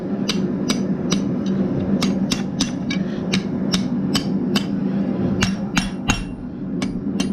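Sharp, ringing hammer blows strike hot iron on an anvil in a quick, steady rhythm, about twenty hits in succession, close and loud.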